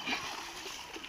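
A buffalo splashes into water in a village setting, producing a brief, near burst of sloshing and splattering.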